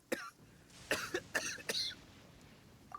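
A video game character coughs in a short burst of four or five rough, throaty coughs, near and fairly loud against a quiet background, with a faint throat-clearing sound at the end.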